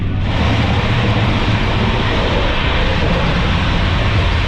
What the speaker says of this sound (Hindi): My goodness, भाग रही है ट्रेन।